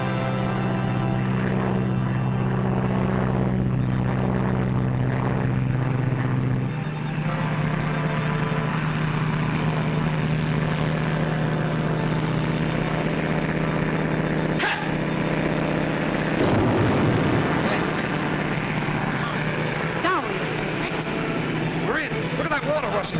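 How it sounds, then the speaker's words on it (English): A propeller airplane drones steadily overhead for a long stretch in an old comedy film scene, loud and continuous, with a dog barking and people talking over it. "The plane, look!"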